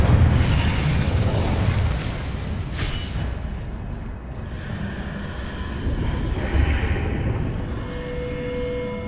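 A fiery spell roars out in Hogwarts Legacy, a loud, sustained whooshing burst of flame with rumbling low body that swells, dips slightly, then surges again.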